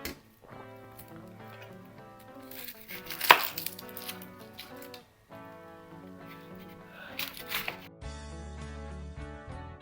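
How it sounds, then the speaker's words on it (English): Onion being chopped on a board gives a run of crisp knife taps in uneven bursts, close and fairly loud, with brief pauses between strokes. "And as they cool down, I chop other ingredient, which I'm gonna start with onion."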